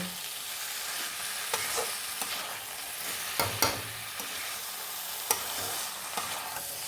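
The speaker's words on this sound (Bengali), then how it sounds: "এইবার এটাকে নাড়ব" Hyderabadi chicken curry with coriander leaves being stirred in a pan, a low steady simmering hiss broken by a few soft scraping knocks of the spoon, fairly quiet and with no one talking.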